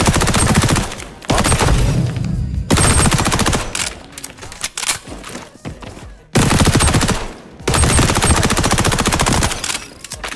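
MP5 submachine gun in the shooter XDefiant firing long, loud, rapid automatic bursts up close, separated by brief pauses and quieter gaps.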